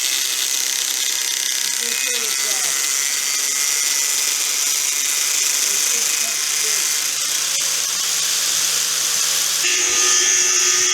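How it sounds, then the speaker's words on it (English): An angle grinder whines in a steady high-pitched drone while cutting wheel rims, running continuously close by with a brief shift in tone near the end. "so you guys can hear me over the grinder"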